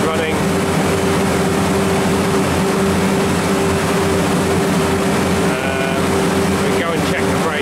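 A Copeland compressor unit runs steadily close by, a constant mechanical hum with a strong tonal drone, no breaks over the whole stretch.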